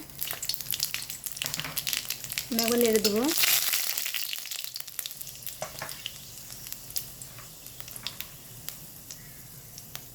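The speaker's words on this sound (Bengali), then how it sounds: "কড়াইয়ের মধ্যে আমি পাঁচ ফোড়ন আর শুকনো লঙ্কা আমি দিয়ে দেবো" Panch phoron and dry red chillies hit hot mustard oil in a kadai, giving a brief burst of sizzling that fades into a softer crackle, while someone speaks over it.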